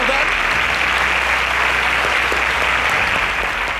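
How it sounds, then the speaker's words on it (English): Studio audience at a Nigerian quiz-show semi-final breaks into steady, loud applause, a dense wash of clapping hands that holds even throughout without any talking. "A round of applause for"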